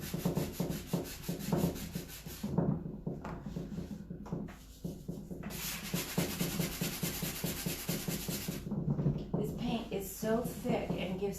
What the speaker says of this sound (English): Needs to be sanded just a little bit more.